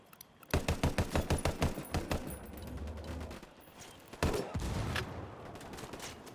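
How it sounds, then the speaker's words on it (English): Gunfire in the game Ghost Recon Wildlands: a rapid string of loud automatic bursts in the first couple of seconds, a steady rumble, then another heavy volley of shots near the end. "Bro, shooting me through the grass."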